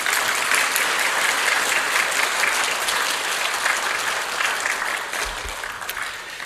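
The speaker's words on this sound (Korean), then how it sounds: "힘내시라고 박수로 격려하면서 박수로" A church congregation applauds steadily and loudly for a visiting pastor, a dense, continuous clapping from a large crowd that tapers slightly toward the end.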